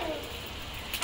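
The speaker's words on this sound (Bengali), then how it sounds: "বৃষ্টি পড়ছে।" Rain falling outdoors as a steady, soft hiss of drops, fairly close and even across the brief moment, with a faint rise near the end.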